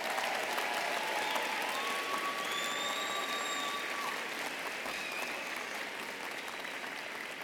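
Sustained applause from a commencement crowd honoring the graduating class of 2018 at a social work college ceremony, a steady dense wash of clapping that holds loud throughout with faint tonal sounds above it.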